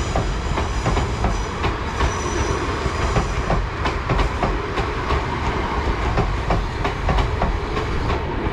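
A South Western Railway service to Weymouth rolls past with a dense rumble and steady clickety-clack of wheels over rail joints, loud and continuous with no voices.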